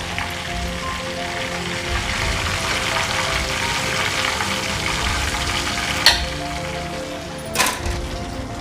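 Spiced chicken pieces deep frying in hot oil give a steady, dense sizzle and crackle throughout, with a couple of sharper clatters near the end, close and alone without voices.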